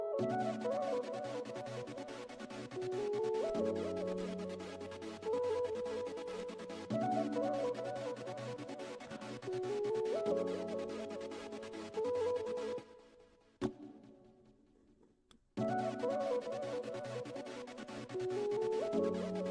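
A beat with piano layered over melodic samples plays in a steady looping pattern. It drops out briefly near the end, then comes back in.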